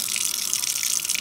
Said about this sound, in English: Okay, so what I'm gonna do is first get some water